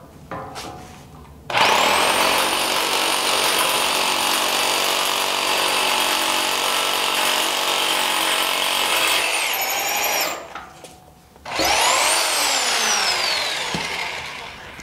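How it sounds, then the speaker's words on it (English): A rotary hammer drill with a hardened steel bit bores into a concrete floor, a loud, harsh, sustained grinding roar lasting several seconds, briefly cutting out, then a short final burst with rising whine as it spins down. "I put a hole in the concrete floor in all of about 10 seconds. And that's why a rotary hammer drill rocks."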